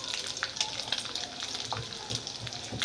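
An egg frying in masala over low gas, giving a steady crackling sizzle with scattered small pops and a light scrape now and then, close and moderately quiet.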